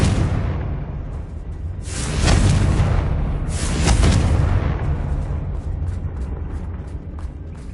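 Confringo spell explosions in Hogwarts Legacy on PS5: two heavy booming blasts a couple of seconds apart, each swelling and rumbling before fading into a low, roaring wash, loud and close with no talk over them.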